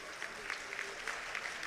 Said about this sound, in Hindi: आपकी तालियां बराबर बजती रहें